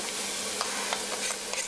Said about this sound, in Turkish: Tavaya yaklaşık 500 gram kadar kıyma ekliyorum.